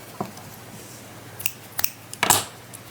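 Scissors snip through a yarn tail while making a crocheted amigurumi: three or four crisp, close cuts spaced across a few seconds, with no talking.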